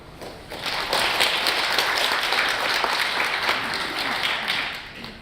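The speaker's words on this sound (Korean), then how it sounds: "다시 한번 여러분의 힘찬 박수 부탁드립니다" A studio audience at a sleep apnea talk event bursts into sustained, even applause that swells quickly and fades near the end, with a voice faintly over it.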